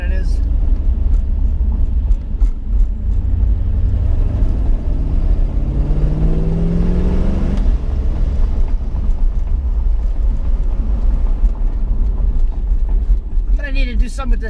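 A Nissan 350Z with an LS V8 swap runs with a low, steady exhaust drone and a brief rise in revs partway through, fairly quiet, with someone talking over it.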